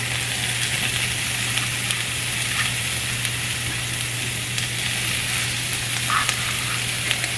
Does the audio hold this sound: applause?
no